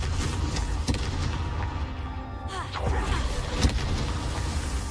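The Confringo fire spell in Hogwarts Legacy bursts out in a few sharp blasts, booms scattered over steady game ambience and combat noise, with brief in-game speech mixed in.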